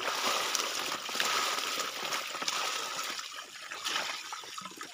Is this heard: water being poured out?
yes